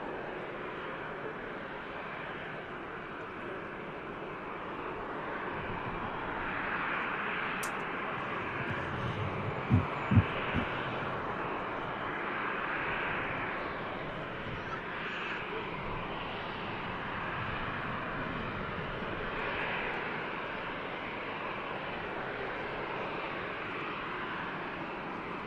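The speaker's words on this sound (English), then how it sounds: "Ryanair on the move here on the ground as well. 737-800 series." Ryanair Boeing 737-800 jet moving on the ground at Manchester Airport: a steady, distant engine roar and broadband rumble holding level throughout, with a couple of brief thumps midway.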